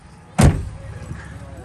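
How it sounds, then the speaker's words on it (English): The hood of a Ford Bronco Raptor pops open with a single sharp metallic thunk and brief rattle, close and loud, followed by quiet handling noise. "We're popping the hood."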